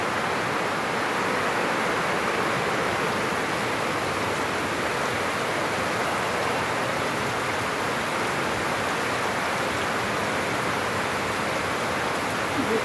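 Heavy rain pouring down without letup, a constant dense hiss of water on surfaces that stays steady and loud throughout, no speech.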